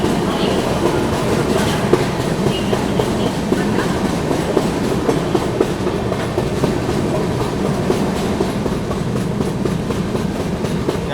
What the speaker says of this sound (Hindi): फिलहाल दोस्तों ट्रेन यहाँ पर अपनी जो है डीवा जंक्शन को स्किप कर रही है